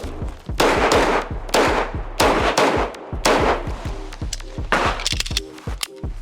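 Rapid strings of loud gunshots at an outdoor shooting range during a drill, several bursts of fast close shots in quick succession with short pauses between them.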